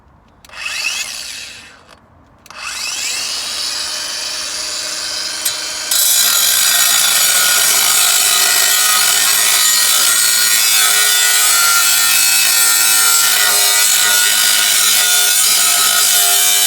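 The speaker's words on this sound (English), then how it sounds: "I think I'm going to try and grind off the head from this side and see if that helps." A power tool grinds at a bolt on the exhaust of a 2002 Mini Cooper S, starting in two short bursts and then running continuously, loud and close, with a harsh, rasping whine and no speech.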